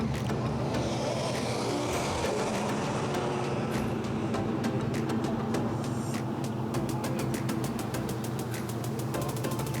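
A car drives past at a cars and coffee meet at Lake Illawarra, Shellharbour, giving a steady, fairly loud rush of engine and road noise that holds for about ten seconds with no voices.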